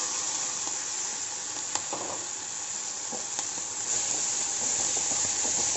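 Tomatoes and green chili sautéing in a pan, giving a dense continuous sizzle and hiss at a steady level, with a couple of faint clicks from the utensil.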